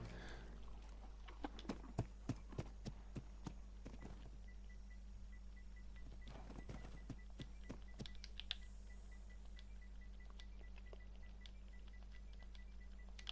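A horse's hooves clip-clop in the Ark video game as a quiet run of evenly spaced clicking steps early on, then a few more scattered clops over a faint, steady background hum.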